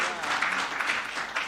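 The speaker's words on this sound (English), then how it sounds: "can we clap?" Audience applause at a Muslim justice and law centre event welcoming a presenter, a steady wash of clapping from a seated crowd lasting the whole moment, moderately loud and even, with no words spoken over it.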